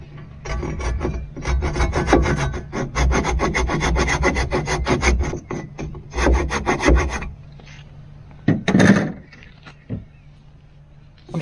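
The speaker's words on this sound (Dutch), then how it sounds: "Misschien kan het ook met de zaag." A hand saw cuts through wood in rapid back-and-forth strokes for a houseboat door foundation, two bursts of sawing separated by a pause, then a few scraping knocks.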